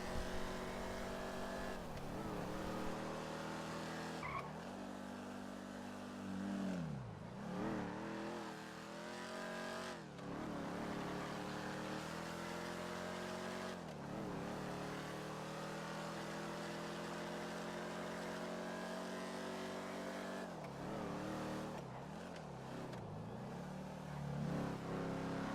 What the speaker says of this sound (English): The Dukes is a quintessential American muscle car.